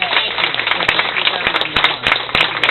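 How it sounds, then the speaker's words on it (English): Audience applause at a Christmas party greeting a newly chartered official organization: a dense, steady wash of clapping that holds for about three seconds, with a few sharper claps standing out. "let's give these guys a big round of applause."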